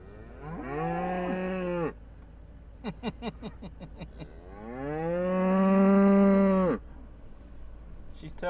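Two long, loud cow moos separated by a stretch of rapid bleating calls, close to the microphone with a steady engine hum beneath.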